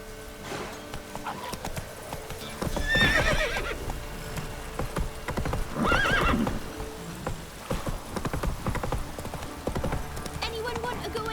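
Hooves clip-clop steadily as a horse from The Witcher 3 game moves along, with loud whinnies bursting out around three and six seconds, while a person speaks over the action.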